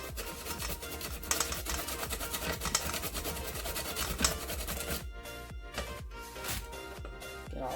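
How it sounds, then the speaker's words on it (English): Zucchini rubbed against the coarse side of a heavy box grater in a home kitchen, a steady dense rasping scrape that continues throughout, then breaks into separate strokes toward the end, close up with no speech. "I do a little bit on this heavy grater side."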